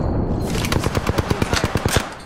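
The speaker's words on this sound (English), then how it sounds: "Taking shots." Rapid bursts of automatic gunfire in a battle-royale shooter video game, a quick run of evenly spaced loud cracks over a steady din of in-game ambience, with no talk.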